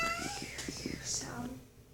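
A young kitten gives a short, close meow alongside soft indoor rustling and a faint whispered voice.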